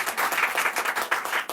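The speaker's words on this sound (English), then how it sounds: "let's give her another round of applause as well" Brief burst of audience applause for a senator at a New York child care funding announcement, dense rapid clapping from a crowd, fairly close and moderately loud.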